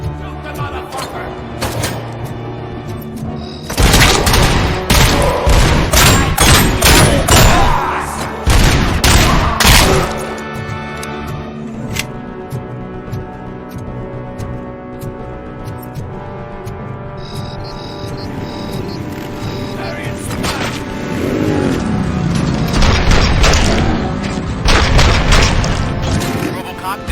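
Gunfire in the video game Robocop Rogue City: repeated bursts of booming shots in dense clusters, loud and close, separated by stretches of lower rumble, with voices talking in between.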